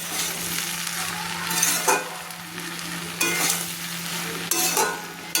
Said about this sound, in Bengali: আমি যে ডিমের ভুজিয়াগুলো করে রেখেছিলাম সেগুলো দিয়ে দিলাম, দিয়ে ভালো করে নেড়ে নিচ্ছি